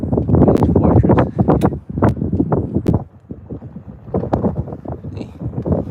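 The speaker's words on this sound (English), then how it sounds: "It's windy though. It's very windy." Strong gusting wind buffets the microphone outdoors at Halifax Citadel fortress, loud uneven roaring bursts that rise and drop repeatedly with brief lulls between.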